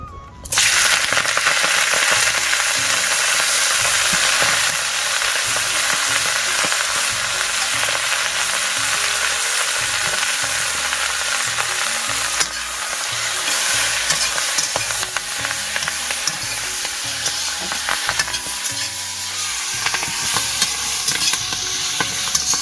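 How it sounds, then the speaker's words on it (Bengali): Malabar spinach hits hot oil in a wok with a loud, continuous crackling sizzle that starts abruptly and keeps going, with stirring noises mixed in throughout. "কড়াতে দিয়ে দিচ্ছি তেল। তেলটা গরম হয়ে গেছে, প্রথমে দিয়ে দেব পুঁই শাক।"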